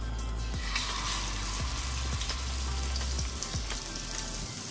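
Fish frying in hot oil, a continuous close sizzle and crackle with occasional low thumps as pieces shift in the pan.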